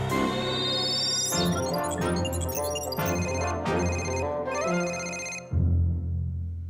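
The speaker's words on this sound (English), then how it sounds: "Didn't you know that you can call Johnny straight from your computer?" Computer video call ringtone in a children's cartoon: a bright, electronic melodic ring with rising chimes and repeated tonal notes, fairly clear and alone, ending in a short low tone.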